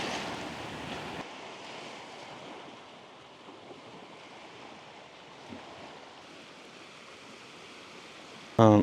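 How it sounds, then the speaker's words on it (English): Surf washing onto Sugar Beach on Negros Island in the Philippines, a steady soft wash of waves with some wind noise on the microphone, with a brief louder knock at the very end. "right now I am on a Sugar Beach, and I should say it's really nice"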